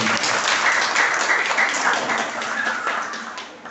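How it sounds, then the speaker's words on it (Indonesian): Audience applause follows a welcoming speech by the general chairman of IKAWANGI, a loud, dense burst of clapping that holds steady and then tapers slightly toward the end. "Tepuk tangan buat"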